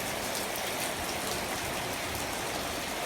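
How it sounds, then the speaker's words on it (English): Steady tropical morning rain pours on the ocean around a small private boat about five miles offshore, a dense, even hiss of drops pattering on surfaces throughout with no voices. "Oh my god, it's raining."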